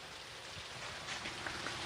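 A sudden downpour falls steadily outdoors during a race, a dense, even hiss of rain with no voices.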